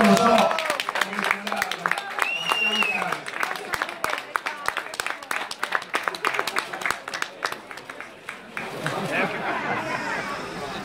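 An audience at the Minardi award ceremony applauds, with a dense, sustained run of hand claps that thins toward the end as murmuring voices and talk take over.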